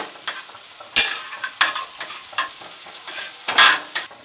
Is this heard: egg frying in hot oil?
yes